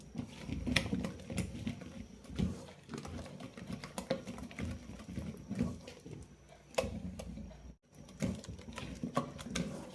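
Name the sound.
mixing idli batter by hand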